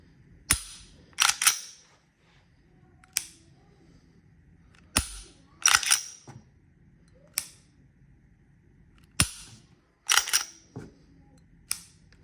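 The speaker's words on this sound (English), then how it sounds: "I know everyone likes hearing the trigger, so let's get a look" A Glock 48 pistol's trigger is dry-pulled and reset repeatedly, giving sharp, close mechanical clicks in small clusters of two or three spaced over several seconds, with quiet gaps between and no talking.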